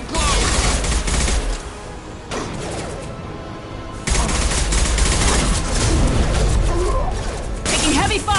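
Dense, continuous heavy gunfire in Mass Effect Legendary Edition 2 combat, loud and close, with overlapping bursts, booms and impacts that ease briefly in the middle before surging again.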